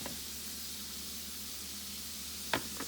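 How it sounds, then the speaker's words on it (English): Vegetables for a keto cornbread dressing cook in melted butter in a pan, giving a faint, even hiss of sizzling with a brief clatter near the end. "Now they're going into a pan with some melted butter."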